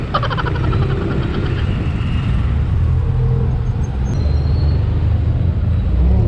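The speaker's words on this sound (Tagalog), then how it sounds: "Ang aga ng traffic." Busy morning road traffic in a Philippine town, with a steady, loud rumble of passing cars, buses and motorbikes close by and a brief brake hiss partway through, without speech.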